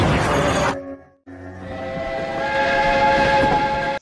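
A train in a film sounds a loud whistle over steady rolling rumble, broken by a brief cut to silence before the whistle and train noise resume, close and prominent.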